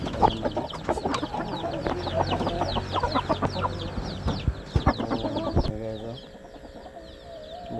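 A flock of chickens clucking busily close by, many overlapping calls throughout, with a few louder squawks and a quieter stretch near the end.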